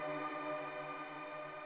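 Behringer DeepMind 12 synthesiser playing a sustained shimmer reverb patch, with chorus and dual pitch feedback into a chamber reverb, giving a dense, steady, ringing tone with stacked bright overtones that holds evenly throughout.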